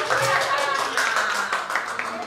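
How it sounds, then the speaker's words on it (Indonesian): Scattered clapping from an audience at a talk show and song launch, a dense patter of hands under and around a voice speaking. "Kita tepuk tangan dulu dong"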